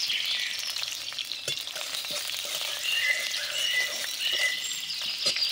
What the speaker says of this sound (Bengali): কড়াইতে দিয়ে দিলাম তেল, তেলের মধ্যে পেঁয়াজ দিয়ে দিলাম